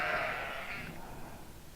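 A single sheep bleats loudly and close, one drawn-out wavering call that fades into quieter background.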